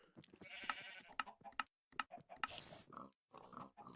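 Pig grunts and oinks from the Minecraft video game, several short, sharp bursts in quick succession with brief silences between, followed by a hissy noise burst, heard close and alone.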